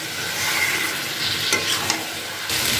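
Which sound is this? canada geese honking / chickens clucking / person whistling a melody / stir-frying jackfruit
stir-frying jackfruit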